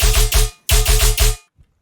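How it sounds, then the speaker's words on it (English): A synthesized main bass from a tearout loop stabs in two loud groups of three heavy, growling hits, separated by a short pause and ending abruptly. "I will just show how to make the main bass that sounds like this."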